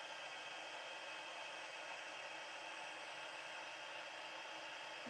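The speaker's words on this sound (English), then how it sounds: "bear with me for a minute while we heat set this" A craft heat tool blows steadily to heat-set embossing on a card, a constant close whooshing hiss like a hair dryer that holds even throughout with no voice.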